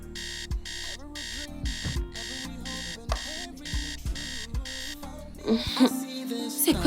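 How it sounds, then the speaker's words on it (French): An alarm clock rings in repeated regular bursts of high electronic beeping over a background of music, then breaks off as other noises and voice sounds come in near the end. "C'est quoi ce stupide réveil?"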